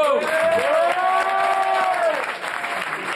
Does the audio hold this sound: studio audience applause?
yes